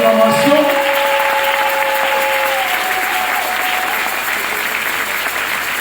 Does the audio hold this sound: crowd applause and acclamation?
yes